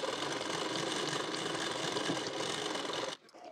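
A sewing machine runs steadily while stitching blouse fabric, giving a continuous, close, fairly loud mechanical whir that stops abruptly near the end, leaving quiet handling sounds.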